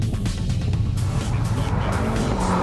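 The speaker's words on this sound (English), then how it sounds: "202 kilowatts of turbocharged petrol engine paired with a 6-speed manual transmission" A turbocharged petrol rally car with a six-speed manual gearbox races on a gravel rally stage in the Coromandel, its engine roaring loud and near with tyre noise and a rising pitch as it passes.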